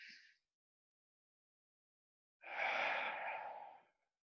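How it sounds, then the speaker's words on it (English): During a seated chair yoga class, a single slow, deep breath is drawn in close to the microphone, soft and airy, after a moment of near silence. "Inhale, fill the lungs."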